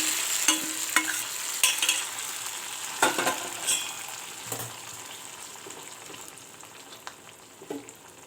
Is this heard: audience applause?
no